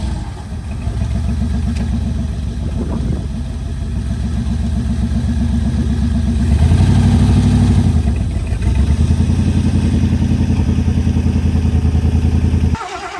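Rumbling engine of a 1973 Mercury Montego running and pulling forward, a loud steady low throb with a slightly uneven beat that swells in the middle, close with no talking.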